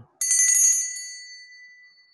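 A small bell rings once with a bright, sharp metallic strike that decays over about two seconds, heard alone in a quiet room.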